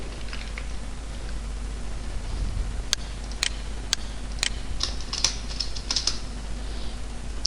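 Rapid keystrokes on a computer keyboard, steady typing with a few sharper clicks standing out, close and fairly quiet, no talking.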